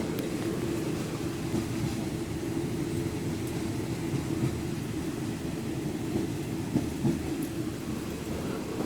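Local train no. 426 rumbles steadily from inside a carriage as it pulls into a passing siding, a low continuous rolling drone with faint clanks and rattles throughout and no talking.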